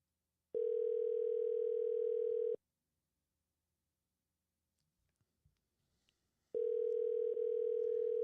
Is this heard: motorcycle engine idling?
no